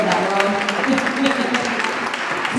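An outdoor afternoon audience at a community arts event in Roxbury claps steadily in a dense patter, with talking voices layered over the applause throughout.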